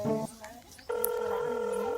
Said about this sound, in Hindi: फोन रिंग तो जात यार